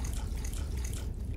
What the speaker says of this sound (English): The water noises.